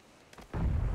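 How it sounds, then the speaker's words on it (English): A grenade detonates in PUBG, a low, booming blast that lands suddenly after a brief rising whoosh and rumbles on loudly to the end. "I'm just chucking a ton of nades."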